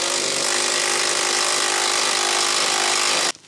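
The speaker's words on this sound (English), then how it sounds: "So I'm just going to use my impact driver here." An impact driver drives a screw into a wall for metal shelving, a loud, continuous close-up whirring buzz that holds steady for about three seconds and then stops abruptly.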